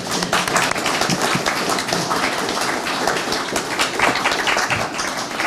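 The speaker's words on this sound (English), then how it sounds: "can we give Cameron a round of applause?" Audience applause for Cameron, a dense, steady crowd of clapping hands filling the whole few seconds at an even, fairly loud level.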